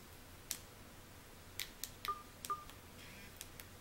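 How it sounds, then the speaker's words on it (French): A mobile phone gives a few short electronic beeps and taps as it is switched to silent, sparse and close in an otherwise quiet room. "J'aurais dû mettre mon téléphone sur silencieux."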